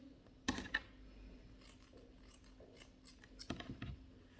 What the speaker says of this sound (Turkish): Bunlardan bir tane küçük parça keselim.